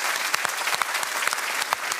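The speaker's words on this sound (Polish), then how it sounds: "Wielkie brawa dla Michała!" Lively studio audience applause for a contestant on a television quiz show, brisk and steady with distinct individual claps standing out over two seconds.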